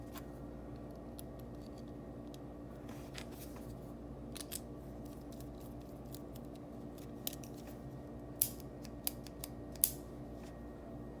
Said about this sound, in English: So we'll remove the front, pop this little piece of wax off.